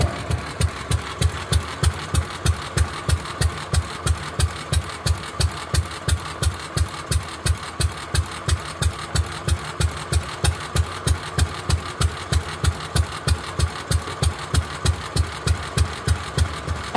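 A Fairbanks Morse 208 oilfield engine runs alone at a slow, perfectly even beat, each heavy exhaust thump evenly spaced in a steady chugging rhythm that holds throughout.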